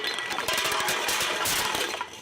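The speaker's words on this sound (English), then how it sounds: "Clinking beer bottles and rattling soft drink cans have become a constant chorus in Emily McLaren's life" Beer bottles clink and soft drink cans rattle together in a busy, close jumble of glassy chinks and metallic knocks, continuous for a couple of seconds with no talk.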